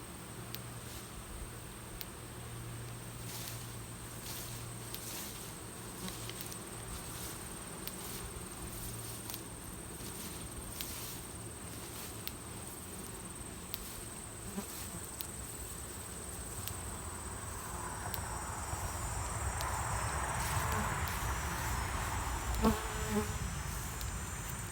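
Honey bees buzz steadily around their hives in the morning sun during a fall honey flow, a soft, continuous droning swarm that grows slightly fuller toward the end, with a few faint clicks.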